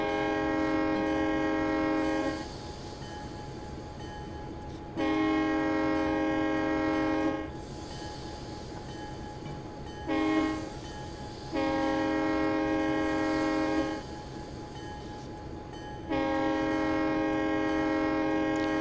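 A GP9 locomotive horn in Train Simulator 2020 on the Soldier Summit route blows for a crossing in long loud blasts with short gaps between them, over a constant rumble of the train running.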